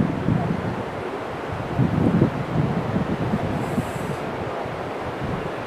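River water flowing under Jogighat Bridge in Darjeeling, a steady, loud, continuous rushing roar with a gusty, wind-buffeted texture and no pauses.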